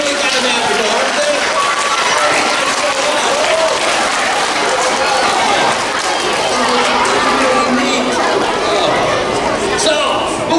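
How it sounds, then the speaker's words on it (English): A school assembly audience applauds a feather plumes magic trick with sustained, dense clapping and chatter from a crowd of children, loud and continuous for about ten seconds. "How about a round of applause for the feather plumes?"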